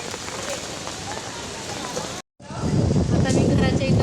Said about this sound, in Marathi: आता थोडा थोडा पाऊस येत आहे.